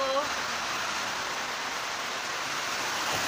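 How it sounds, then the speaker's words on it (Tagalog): Steady, dense heavy rain pours down with little wind in a continuous broadband hiss with no breaks, loud and close. "Malakas ang ulan, pero mahina lang naman yung hangin."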